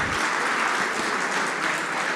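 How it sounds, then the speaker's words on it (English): Sustained applause from a crowd, steady and dense clapping throughout with no pauses. "A big round of applause for them."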